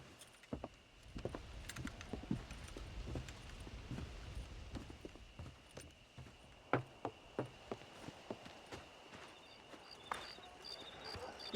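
Horse hooves in Red Dead Redemption while breaking in horses on a ranch, a string of clip-clop hoof strikes at a walking pace, some sharp and close, over a low outdoor ambience with faint jangling tack.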